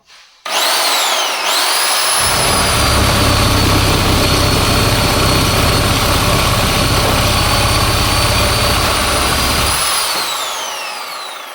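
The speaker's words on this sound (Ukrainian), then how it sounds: "Я чомусь думав, що мережева пила буде різати набагато швидше." A corded reciprocating saw cuts metal pipe for several seconds, its motor whining high while the blade rasps with a low rattling chatter, then winds down.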